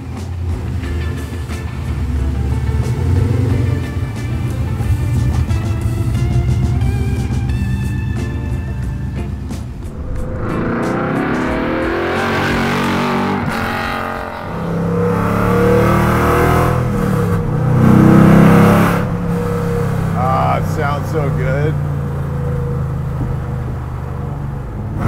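A Coyote V8-swapped 1966 Ford Mustang drives off, its engine note climbing through revs and shifting gears loudly and close, with tonal rises and falls as it accelerates along the road.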